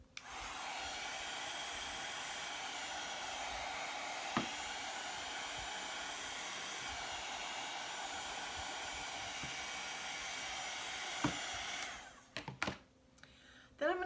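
A hair dryer blows steadily and close for about twelve seconds, drying chalk paint, then cuts off, leaving brief handling clatter.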